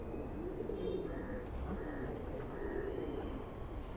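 A single pigeon coos in soft, low rolling phrases, nearby and fairly quiet, with a few faint chirps behind.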